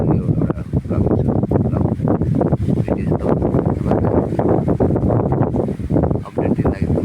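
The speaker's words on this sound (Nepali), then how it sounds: "हावा चाहिँ आउनु चाहिँ छोड्दैन।" Strong wind gusting hard outdoors, buffeting the microphone with loud, continuous roaring rumble and rustle that barely lets up.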